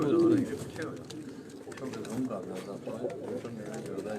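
Breeder pigeons coo on a rooftop, with a few low cooing calls rising over steady background noise and people talking nearby.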